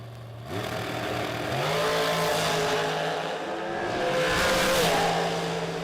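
Drag racing cars, including a 2020 Miller chassis, launch down a drag strip with loud roaring engines, the pitch stepping upward through gears as the noise swells and stays intense.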